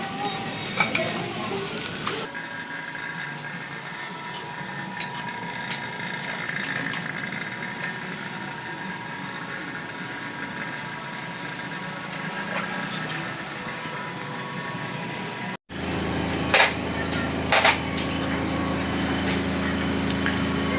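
A vacuum pump runs steadily on the refrigerant line of a newly installed Daikin split wall-mounted air conditioner, a continuous close mechanical hum and whine that stops abruptly, followed by clicks and a different machine tone.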